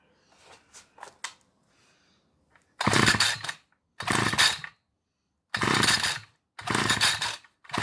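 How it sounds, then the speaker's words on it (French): A brush cutter with a faulty recoil starter is pull-started after a dose of starting fluid: a few soft rattles, then four loud bursts of the small two-stroke engine catching briefly and dying, each separated by short silences. "Et je vais essayer de filmer un redémarrage avec du Star Pilot."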